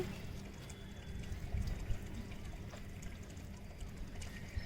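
Water trickling and pouring softly into a tub of coco peat, a low gurgling flow with small splashes, fairly quiet and continuous.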